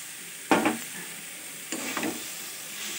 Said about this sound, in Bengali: গ্যাসটা কমিয়ে ভালো করে নাড়াচাড়া করতে হবে।